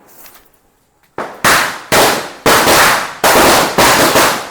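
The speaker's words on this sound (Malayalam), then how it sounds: "ഇനി നമുക്ക് പടക്കത്തിൻ്റെ സെക്ഷൻ തുടങ്ങാം" Firecrackers burst during Vishu celebrations, with a short quiet stretch followed by five or six loud, sharp bangs in quick, fairly even succession, close by.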